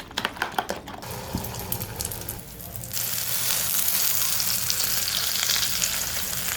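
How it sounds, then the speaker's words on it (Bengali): Eggs seasoned with salt fry in a hot pan, starting with a few clinks and quieter sizzling, then breaking into a louder, steady hiss and crackle close by for the last few seconds. "গরম গরম ডিম ভাজি করে নিয়ে আসি"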